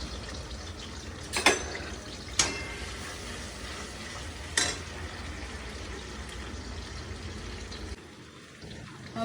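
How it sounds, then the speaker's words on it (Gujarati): Chillies fry in oil in a pan while a gravy is prepared. A low, quiet sizzle runs throughout, broken by a few sharp utensil knocks as the pan is stirred. "હવે આપણે આને હલાવશું."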